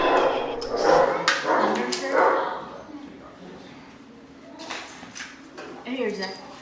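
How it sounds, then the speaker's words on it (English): Dogs meeting other dogs give excited yips and short barks, close by and intermittent, mixed with people talking throughout. "He's so excited to meet all the other dogs."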